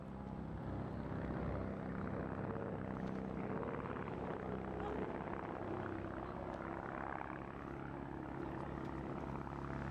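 A display aircraft with a 5.3 litre, 160 horsepower engine flies at the Eastbourne International Airshow, a steady loud droning engine roar sustained throughout without breaks.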